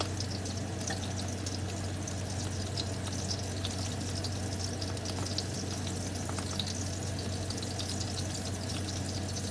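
Sausage frying in grease in a skillet, a steady close crackling sizzle with faint pops, continuous and even throughout, no talking.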